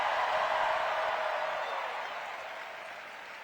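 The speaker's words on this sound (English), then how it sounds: "Can we first hear a round of applause for our incredible MC," At an evening New York political rally, a crowd applauds the MC with a thick, steady wash of clapping that gradually fades over a few seconds.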